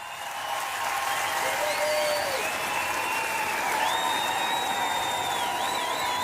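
A concert crowd applauds a performer at a 2019 show: dense, sustained clapping fills the space at full level, with high whistles and shouts ringing over it.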